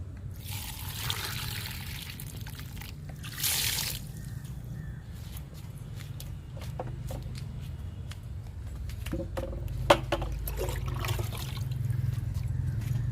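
Peanut cake fertilizer liquid is poured onto a potted plant, giving soft trickling and dribbling splashes in short bursts over a low hum, fairly close and quiet.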